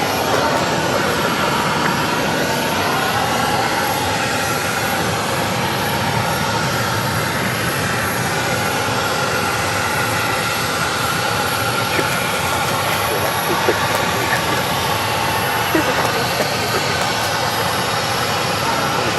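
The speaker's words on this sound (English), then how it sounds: "American Airlines, coming in from Boston. That is an Airbus A321, and it is a brand new aircraft." An American Airlines Airbus A321, a brand new aircraft arriving from Boston, lands at Phoenix Sky Harbor Airport. Its engines give a steady, loud broadband roar that holds at an even level throughout with no break.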